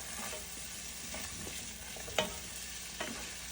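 Curry leaves, potatoes and other okra stew ingredients sauté in a pan with a constant close sizzle, broken by a few soft stirs and one sharp utensil knock.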